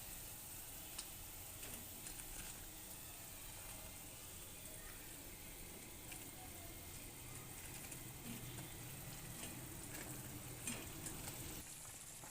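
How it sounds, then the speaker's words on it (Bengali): Spinach-lentil gravy for fried koftas bubbling at a steady boil in a pan, a quiet continuous sizzle and simmer with occasional faint ticks. "ঝোল ফুটে গিয়েছে, এবারে ভেজে রাখা বড়াগুলো দিয়ে দেবো।"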